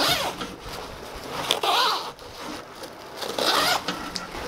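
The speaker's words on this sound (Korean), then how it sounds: "굉장히 스무스하고 부드럽게 잘 움직이는데 이 지퍼 포켓이 글로벌 브랜드인 YKK사의 지퍼를 사용을 했다고 해요" A YKK zipper on a Martin Cox BCB messenger bag pocket slides open and closed in a few quick, close, raspy strokes, each a short bright zip, with brief quiet pauses between.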